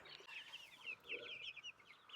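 Broiler chickens cluck steadily on a farm, a dense flock of overlapping clucks and short calls close by with no talking.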